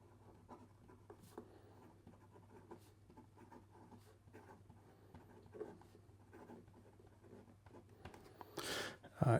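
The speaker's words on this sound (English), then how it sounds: "And here we go with the rest of the writing sample." A Leonardo Momento Zero fountain pen with a stainless steel nib writing on paper gives faint, soft scratches and taps in an irregular rhythm over a low hum, ending with a brief louder rustle.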